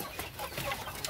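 Brief, busy clucking from a group of chickens nearby, short overlapping calls against a faint background.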